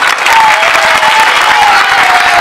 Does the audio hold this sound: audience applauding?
yes